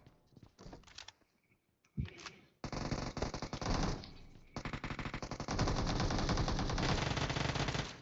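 Bursts of rapid automatic gunfire from the video game BGMI, starting with short sporadic shots and building into long, loud, continuous volleys.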